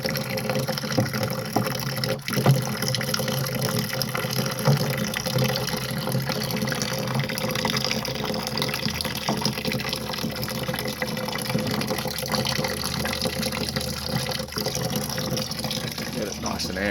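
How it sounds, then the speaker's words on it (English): A home brew fermenter fills with water through a clamped hose, giving a steady continuous gush and splash. The sound stays at an even, moderate level throughout with no pauses. "it's finally filling now on the final stages before I add the yeast"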